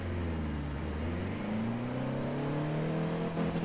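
A 2016 Toyota Land Cruiser accelerates in Forza Horizon 4 in the rain, its engine droning as the pitch climbs steadily through a gear, loud and continuous, with no talking.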